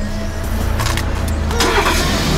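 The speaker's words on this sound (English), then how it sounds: "Here we go, first startup of your new vehicle." A brand-new car's engine starts for the first time, a brief cranking whir catching into a steady idle hum, loud and close inside the vehicle, with no voices.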